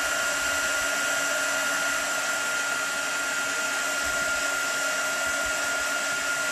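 A heat tool blows a continuous loud whirring stream of air to dry Brusho paint on a stencil, holding an even drone throughout with no talking.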